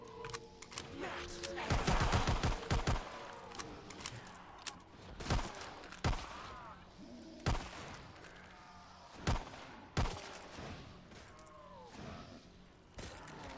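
Gunfire in Black Ops 3 Zombies, a Super Mario Zombies custom map, with several loud close bursts and scattered single shots over a steady game background, alongside occasional talk.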